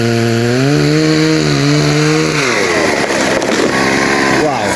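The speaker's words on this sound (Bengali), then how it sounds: "তার মানে মেশিন নিয়েছে গাছ কাটার নিগে।" A chainsaw cutting a tree runs loud and close. Its engine holds a steady high whine, then dips and bogs as the blade bites into the wood, and revs back up near the end.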